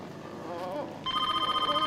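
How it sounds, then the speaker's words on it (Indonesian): A telephone starts ringing partway through, a bright warbling electronic trill that pulses in quick repeated bursts after a moment of indistinct voices. "Ada telepon tuh."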